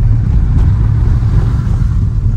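A 2022 Maruti Brezza accelerates on a rough, broken hill road, giving a loud, steady low engine and road rumble heard from inside the cabin with no talk.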